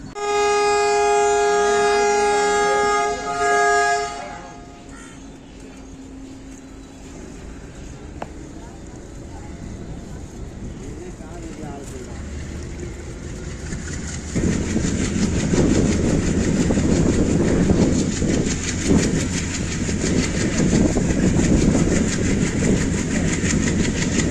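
A Ramanathapuram–Tambaram express passenger train passes with a horn-like tone at first, then steady rumbling and rhythmic clatter of wheels on rails that grows louder toward the end.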